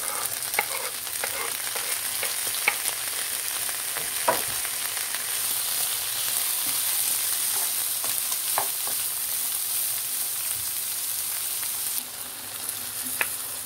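Meat sizzles steadily in a pan with chopped onions and peppers, a close, continuous frying crackle with occasional pops and stirring scrapes, no talk.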